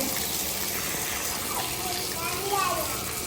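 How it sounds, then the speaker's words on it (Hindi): Tap water runs in a steady, continuous gush in a village home, a broad rushing flow filling the whole clip at even loudness, with faint voices in the background. "पानी आया।"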